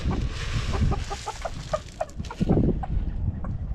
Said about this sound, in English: Chickens! Chickens! They should come running here in a minute.